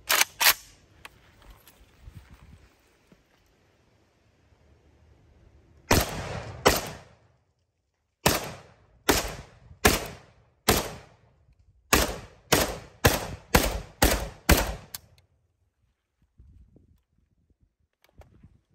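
A 28-year-old Norinco MAK-90 Sporter rifle in 7.62x39 fires loud, sharp shots outdoors, first a few singly, then a steady rapid string of about a dozen, with quiet gaps between.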